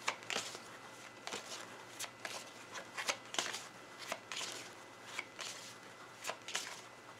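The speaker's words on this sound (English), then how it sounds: "Let me just grab the rest of the deck, put it all together, shuffle it." A deck of cards is gathered and shuffled by hand, giving repeated crisp riffling bursts and taps at an irregular rhythm, close and fairly quiet over a low steady hum.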